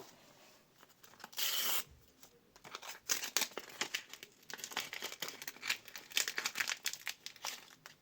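Paper crinkles and rustles as paper surprise packets are unpacked, a near, soft series of irregular crackling bursts with one brief louder tearing-like rush early on.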